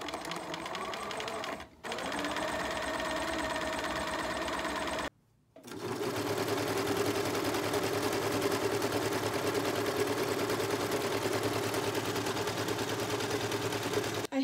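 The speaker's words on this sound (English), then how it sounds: "So I'm sewing the two pieces of the back together at the side seams to the front" A sewing machine runs steadily stitching the back pieces of a dress to the front at the side seams, close and loud, with two brief pauses before a long even run.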